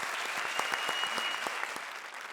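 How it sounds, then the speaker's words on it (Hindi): Studio audience applause on a Hindi comedy show, a dense burst of many hands clapping at once, loud and sustained for a couple of seconds before easing slightly at the end. "जोरदार तालियां"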